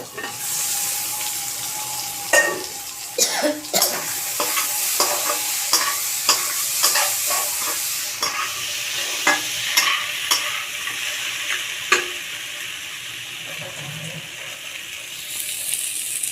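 Crab and potato curry frying in a pan gives off a loud, close sizzle, broken by repeated sharp scrapes and knocks as it is stirred, with a brief watery hiss near the end and no voices.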